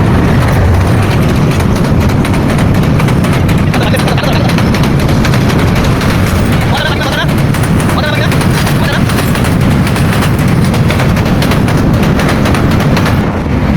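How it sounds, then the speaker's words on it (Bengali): Loud, continuous rumbling and clattering of a train passing close by on a rail bridge over the Shitalakshya River at Ghorashal, sustained roar with rhythmic rattle and wind buffeting throughout. "দেখেন ট্রেন আসতেছে"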